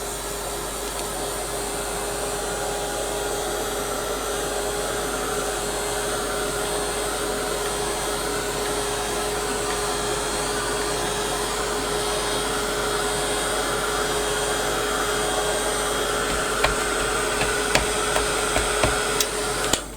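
A hair dryer blasts steadily to dry paint on an autumn leaves canvas, a continuous loud whirring hiss running throughout with a few small knocks near the end.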